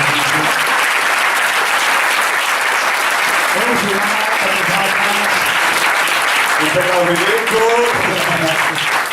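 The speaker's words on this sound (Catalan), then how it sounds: "Crec que es mereixen un fort aplaudiment perquè s'han tastat." A crowd at a book presentation in Girona applauds steadily and loudly throughout, with scattered cheers and voices rising over the clapping toward the end.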